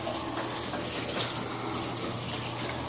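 Water leaking from a roof near a paint booth spatters and drips onto pipes, a continuous splashing rush with irregular brighter drip hits, steady and fairly close.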